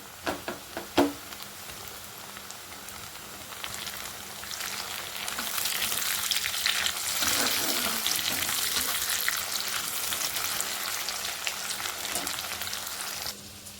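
Steady, loud sizzling of golden-fried onion with chopped tomato frying in a pan, with a few clinks and stirring scrapes near the start, continuing without talk.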